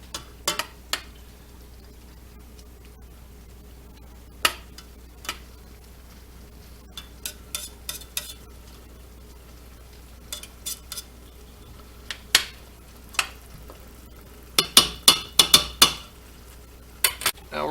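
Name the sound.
stirring olive oil, onions and garlic in a pot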